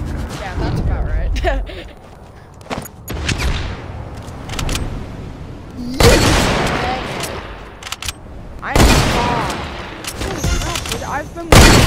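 Rapid gunfire from a Fortnite 1v1 match comes in loud bursts and volleys between quieter stretches of game sound, with a voice talking over parts of it.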